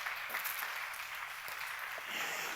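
Audience at a church seminar lecture applauding, a steady wash of clapping heard at a moderate distance, fairly faint and continuous with no speech over it.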